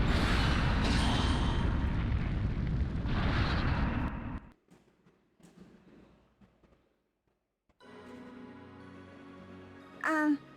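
Missiles explode in a video game robot battle, a loud sustained roaring blast for about four seconds, then quieter rumbling debris and a lull before other game sounds return.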